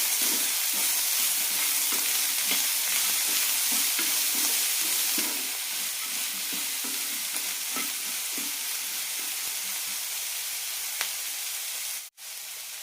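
Jowar upma with salt sautés over a low flame, giving a steady hiss and frequent soft stirring scrapes through the first half, then a quieter sizzle near the end.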